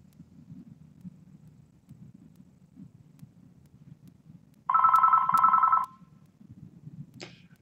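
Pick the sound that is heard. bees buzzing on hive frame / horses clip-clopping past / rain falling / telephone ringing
telephone ringing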